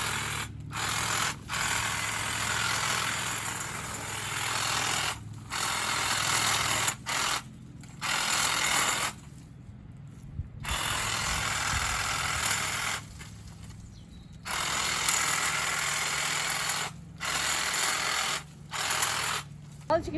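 Power tools grinding and hacking at an old garden wall to strip it back, loud bursts repeatedly starting and stopping with short quiet gaps between them.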